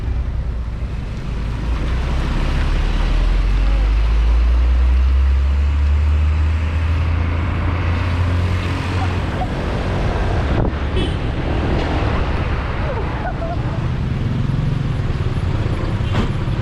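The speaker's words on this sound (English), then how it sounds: "Behind a big old truck." Heavy road traffic rumbles from inside a car driving behind a big truck in Bali, a low, loud engine drone easing off partway through, with wind buffeting and faint voices.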